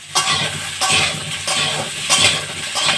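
Cut potatoes tumble into hot oil for frying, with clanking pot-and-spoon strikes at a steady rhythm over a soft sizzle, close and fairly loud, no talking.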